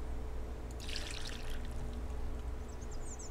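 Water pours in the Mist Survival survival game, a short splashing gush lasting about a second, then fading into a quiet steady background with no talking.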